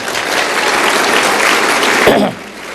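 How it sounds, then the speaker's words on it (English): An audience at a political gathering breaks into loud, dense applause that holds steady and then drops off abruptly near the end, leaving a quieter room tone behind. "Let's give an applause there"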